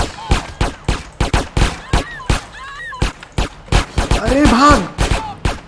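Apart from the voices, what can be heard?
gunfire in GTA San Andreas Definitive Edition video game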